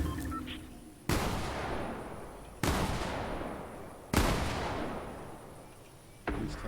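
Three heavy gunshots boom in Call of Duty Cold War, spaced about a second and a half apart, each a sharp loud crack trailing into a long rumbling decay, with one more shot starting at the end.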